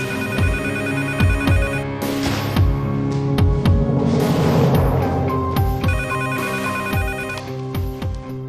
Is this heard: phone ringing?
yes